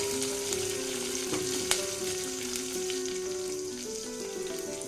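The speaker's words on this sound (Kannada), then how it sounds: "ಎಲ್ಲ ಹಾಕಿ ಒಂದು ಸಾರಿ ಈ ರೀತಿ ಫ್ರೈ ಮಾಡ್ಕೋಬೇಕು." Curry leaves and green chilies fry in a pan, a bright continuous sizzle with a faint hum beneath and a single small clink partway through, steady and close.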